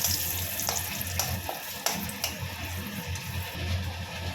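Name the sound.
dried red chillies and bay leaves added to hot frying oil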